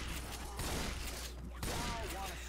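Rapid shotgun blasts in the zombie shooter Left 4 Dead 2, three shots fired in quick succession over dense, continuous in-game noise and action.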